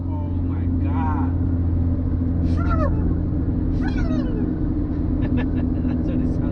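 A 2015-or-newer Subaru WRX with a Boomba Racing blow-off valve cruises in 5th gear at about 55, its steady engine rumble broken by three short, curling whistle-like bursts as the throttle lifts.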